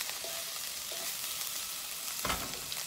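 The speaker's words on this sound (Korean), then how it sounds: "일단 먼저 마늘 다 투하해 보도록 하겠습니다. 마늘이 타요, 여러분." Garlic sizzling and frying in a hot pan for kimchi, a steady dense crackle throughout with a brief louder burst near the end, no talking.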